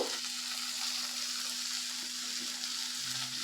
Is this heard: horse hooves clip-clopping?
no